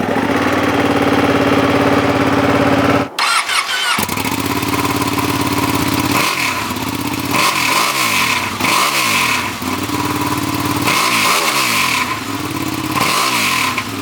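A 2019 Ducati Panigale 959 sport bike starts with a brief cough, settles into a loud, close idle, then is revved repeatedly in sharp rising-and-falling bursts, with no talking.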